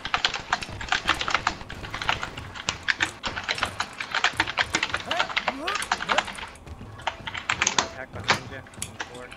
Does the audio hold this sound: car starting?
no